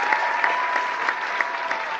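A concert audience at a 1996 show at Vassar College, New York applauds steadily, a dense continuous patter of hands with a faint sustained tone underneath, no voices on top.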